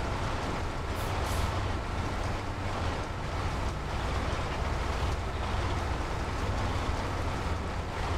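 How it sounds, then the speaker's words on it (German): A struggling truck engine in the off-road driving game SnowRunner drones steadily throughout, its low rumble mixed with dense broadband noise and no audible talk. "Er hört sich auch nicht gesund an, der Motor."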